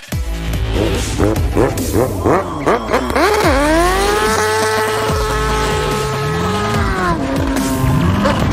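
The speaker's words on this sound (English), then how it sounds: "hizo un burnout o quemadura de llanta" A car doing a burnout on a street in Montevideo, the engine revving hard in repeated rising bursts and then holding a loud sustained high-revving drone as the tyres spin, close and dominant with no talk.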